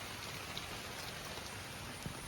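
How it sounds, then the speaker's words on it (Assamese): Rain falls steadily on a house floating on water, a dense, even hiss of patter with a couple of slightly sharper drops standing out. No one speaks. "এতিয়া বৰষুণটো স্পীডত দিছে নাই, এইফালৰ পৰা মানে টুপ পৰিছেহি"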